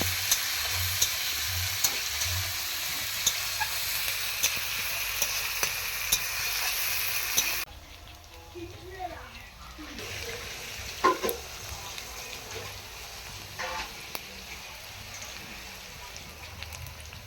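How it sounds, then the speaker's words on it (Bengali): Chopped onions fry and get stirred in oil in a pan over a wood-fired clay stove while chicken kosha is being cooked, giving a steady close sizzle with scraping stirs that drops quieter partway through. "পেঁয়াজগুলোকে হালকা করে একটু নাড়াচাড়া করে আমি একটু ভেজে নিচ্ছি"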